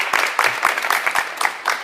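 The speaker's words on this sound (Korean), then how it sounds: "총장님께 다시 한번 감사의 박수 부탁드립니다" An audience at a university lecture claps in thanks for the university president, a short burst of dense, close applause with distinct individual claps.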